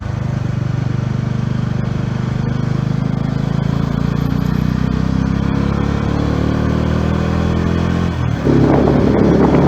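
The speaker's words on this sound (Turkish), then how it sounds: "E tabi canım yani bu egzoz sesi" A motorcycle, either a Bajaj Dominar 400 or a KTM 390 Adventure, roars close up with its exhaust droning steadily as the rider slows through the gears, then a louder, rougher burst of engine noise near the end.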